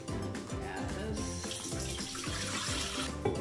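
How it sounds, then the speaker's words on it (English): Water pours in a steady, close stream into a mixing bowl for a cauliflower hoisin dish, running continuously over background music. "So now it says place 32 ounces of water into the mixing bowl."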